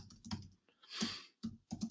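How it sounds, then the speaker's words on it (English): Quiet bursts of typing on a computer keyboard, a few quick clusters of key clicks separated by short pauses, close up and alone. "So let me type that in here."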